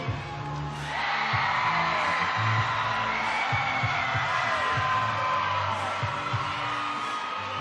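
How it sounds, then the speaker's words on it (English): Crowd at a BYU college gymnastics quad meet screams and cheers after a vault, a loud sustained roar of many voices rising after the first second with thumping underneath. "you heard a huge scream just moments ago"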